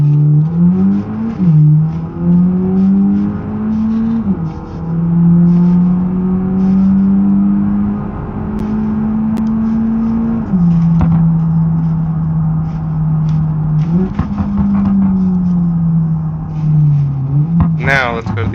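In BeamNG.Drive, a Skoda Kodiaq accelerates hard. Its engine climbs repeatedly through the gears with a steady rising drone, each shift dropping the pitch. The sound stays loud and close, with a voice talking over it.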